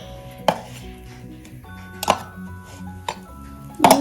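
A knife cuts through a heart-shaped waffle on a plate, giving four separate sharp clinks and scrapes of metal on the dish, spaced about a second apart against a quiet kitchen background.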